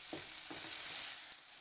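Chopped eggplant frying in a skillet, a soft continuous sizzle with a few faint stirring scrapes.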